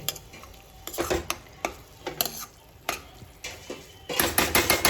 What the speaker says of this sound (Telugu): మనం అయితే దీన్ని మంచిగా మసాలాను మిక్స్ చేయాలి